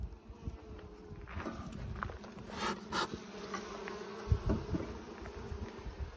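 Honey bees buzz in a dense, steady drone at an open hive while frames heavy with honey are being inspected, with a few soft knocks and handling sounds near the end.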